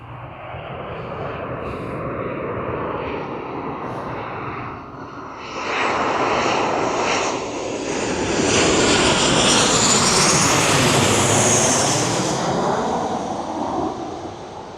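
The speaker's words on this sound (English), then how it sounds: "this quiet secluded spot happens to be on the flight path of planes landing at Stansted Airport" Planes on approach to land at Stansted Airport pass low over a quiet countryside field, a loud roaring engine drone that swells and sweeps overhead for many seconds before easing slightly.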